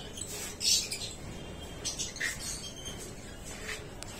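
Lutino lovebirds at a breeding farm give scattered faint chirps and short tweets over a quiet background, a few brief calls spread across the moment.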